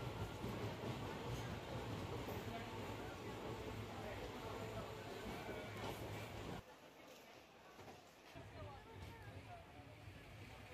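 Steady low rumble of a train departing Sangli railway station, loud and continuous, easing slightly near the end, with a voice talking over it.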